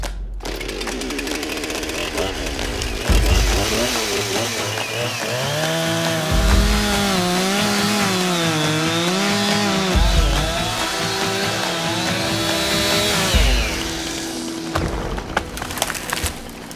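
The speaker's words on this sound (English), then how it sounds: "He also just so happens to own a chainsaw." A chainsaw roars close by, its engine pitch rising and falling as it bites into wood, running continuously at high volume.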